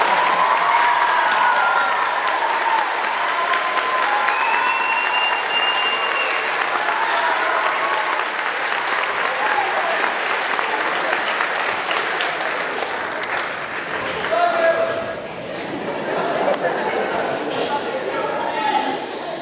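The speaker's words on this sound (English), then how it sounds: "let's give him another round of applause, please" Sustained audience applause at a school music performance, a dense wash of clapping that holds steady throughout, dipping briefly before swelling again, with a few voices mixed in.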